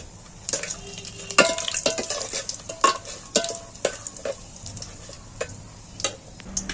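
Whole spices for a village-style mutton curry fry in a pan while a spatula stirs them, giving a continuous close sizzle punctuated by repeated scraping strokes and metallic taps, with no talking.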